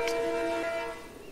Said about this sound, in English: I hear his train, but I don't see it